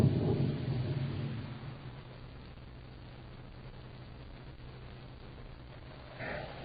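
Thunder from an approaching storm rolls as a low rumble that fades over a couple of seconds, leaving quiet background hiss before a faint swell returns near the end.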